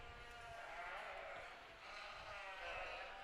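Sheep bleat at a county fair, a faint wavering call rising and falling across the whole moment, with a voice speaking quietly in the background.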